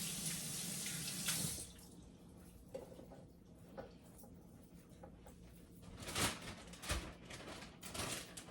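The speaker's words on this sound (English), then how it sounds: "let me wash my hands so I can close these baggies" Tap water runs hard into a sink as hands are washed, a steady splashing rush that thins out, followed by scattered wet splashes and clatters.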